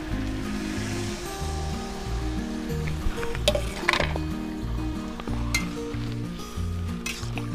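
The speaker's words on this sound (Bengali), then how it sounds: "তাহলে আমি এবার জল দিয়ে দিচ্ছি।" Water poured into a prawn and jackfruit curry frying in a pan, raising a strong, continuous sizzle with scattered clinks of a spoon against the pan, close and with no talking.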